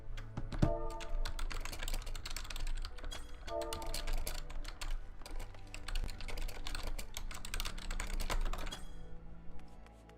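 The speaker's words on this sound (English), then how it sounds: "so you can actually hear me typing at the bottom" Rapid, close clicking on a computer keyboard during a Final Fantasy XIV game session, keys clattering in dense, uneven bursts for about ten seconds over faint game sounds.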